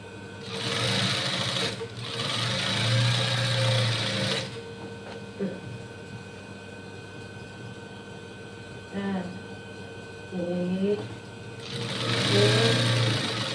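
A sewing machine stitches a bolster pillowcase in two loud, steady runs at the start and a third near the end, with quieter handling sounds and a low mains hum between them.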